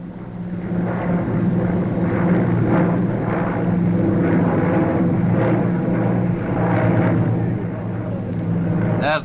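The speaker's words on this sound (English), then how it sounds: "The very latest in jet bombers, the Victor was there, making its first public appearance, an aircraft of strange and menacing design." Handley Page Victor jet bomber flying past at a 1953 RAF coronation review, a loud, steady engine roar that swells and holds for several seconds with a deep low hum underneath.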